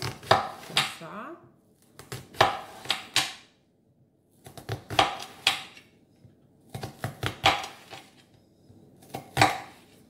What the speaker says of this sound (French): ce qui veut dire que je coupe des petites tranches